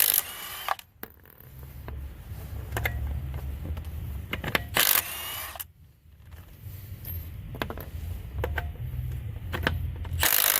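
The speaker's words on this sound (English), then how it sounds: "Let's first see if we can get these lug nuts off." A Milwaukee M12 stubby 1/2-inch impact wrench rattles and hammers in short bursts while breaking loose and spinning off car lug nuts, loud and close, with brief pauses between runs.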